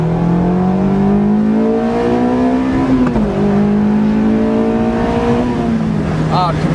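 A Honda S2000 engine revving hard as VTEC engages around 5,500 rpm, a loud rising wail that climbs, dips briefly at a shift, then climbs again before easing off near the end.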